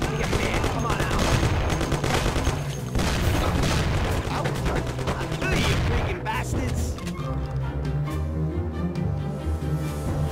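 Dense bursts of gunfire and booming shots from the video game Mafia, rapid and continuous in the first half, then thinning toward the end, mixed with someone talking and game sounds.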